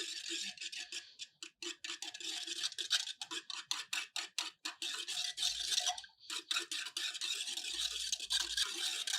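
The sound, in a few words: stirring ragi porridge in a bowl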